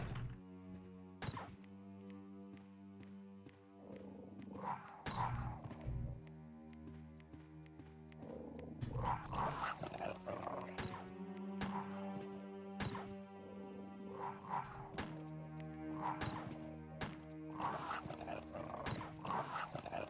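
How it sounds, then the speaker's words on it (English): Dogs in the Resident Evil video game snarl and bark amid heavy thuds, gunshots and impacts over a droning game soundtrack, the sounds coming in repeated bursts. "so it wants me to go out and actually shoot the dogs"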